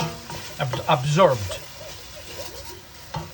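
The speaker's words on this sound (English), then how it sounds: "we're gonna slowly adding the stock and keep on stirring" Squid and kritharaki pasta sizzle in a pan over high heat while stock is added and stirred, with a soft frying hiss and a brief voice-like sound partly over it.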